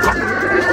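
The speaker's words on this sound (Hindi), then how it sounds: "ये कबूतर है" A pigeon in Lahore cooing close by, one short soft warbling call lasting under a second, with no talking.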